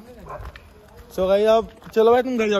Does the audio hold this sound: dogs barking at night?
yes